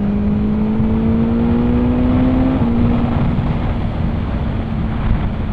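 A 2021 BMW S1000R motorcycle in fifth gear near 6,000 RPM, its steady engine drone rising slightly in pitch as the throttle opens, heard continuously beneath heavy wind rush.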